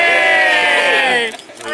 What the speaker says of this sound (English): It's okay, you can cheer.